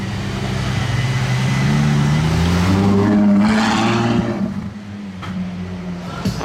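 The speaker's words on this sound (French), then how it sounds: "Vous avez entendu le coup de rugissement de la Aperta?" A Ferrari LaFerrari Aperta roars past on the street at the Monaco Grand Prix, its engine rising to a loud, sustained howl over several seconds before easing off, with crowd and street noise around it.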